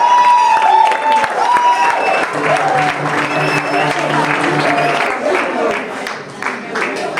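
Audience at an annual holiday celebration applauds steadily and loudly throughout, with a continuous wash of clapping and a tonal background of voices or music.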